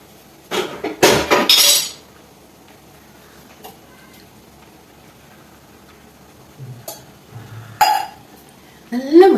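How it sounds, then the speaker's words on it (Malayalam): A coconut is struck with a chopping blade, giving a burst of sharp knocking impacts, then a long quiet stretch broken by a few more hard knocks and clatters nearby. "തേങ്ങ എന്നെ പറയിപ്പിച്ച് ഒറ്റ വെട്ടിന് പൊട്ടിക്കണതാണ്"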